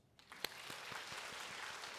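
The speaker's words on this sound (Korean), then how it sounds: "박수." A church congregation claps during a Sunday service in Korea, the applause starting with a few scattered claps and quickly building into steady, moderately distant clapping that holds to the end.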